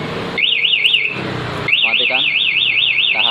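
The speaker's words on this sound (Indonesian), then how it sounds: "alarm ini tetap akan berbunyi keras dan motor tidak bisa dihidupkan sama sekali" Yamaha NMAX 2020 motorcycle fitted with an aftermarket MP one-way alarm, sounding a loud, rapid warbling siren that pauses briefly and then resumes, close by with a voice talking underneath.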